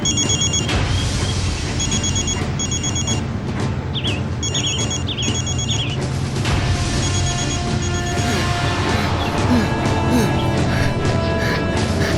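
A telephone rings in repeated bursts against a loud, busy background of dramatic music and commotion.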